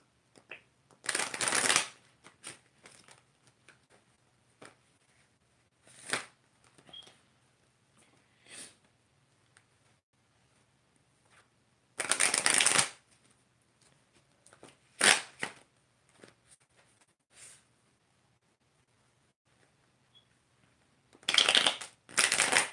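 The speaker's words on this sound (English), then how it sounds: "So I'm just shuffling." Tarot cards shuffled by hand in repeated bursts of riffling and sliding, with longer louder shuffles near the start, middle and end and quieter card taps between them, close and alone in a quiet room.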